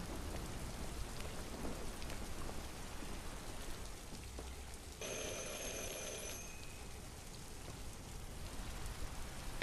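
Steady rain pours in the Castlevania video game, a dense, constant hiss that fills the whole stretch, with a brief high ringing tone appearing midway over the downpour.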